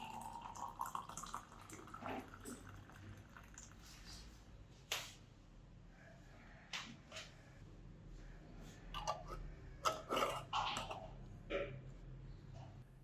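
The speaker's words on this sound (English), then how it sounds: "Put in 500 milliliters of boiling water." Boiling water is poured over fruit peels for an orchid fertilizer, heard as quiet intermittent splashing and trickling with a few sharper drips and knocks in a still room.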